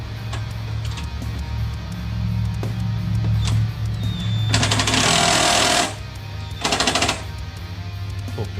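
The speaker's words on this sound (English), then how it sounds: "just going to tighten this sucker back up again" Pneumatic impact wrench tightening a strut top brace nut on a Holden car, two loud rattling bursts, one long and one short, over a steady low hum.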